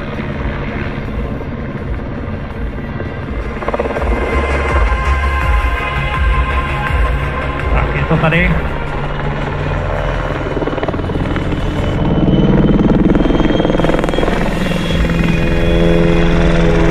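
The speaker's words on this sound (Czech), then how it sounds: "vrtulník prudce klesá ve spirále až k zemskému povrchu" A helicopter performs a steep spiral dive down toward the ground at the 2024 Pardubice air show, its rotor thumping loudly and continuously throughout, swelling in intensity near the end.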